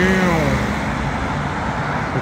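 Steady roar of street traffic with cars passing on a city road, a continuous broadband wash with a brief engine hum at the start, fairly close and moderately loud throughout.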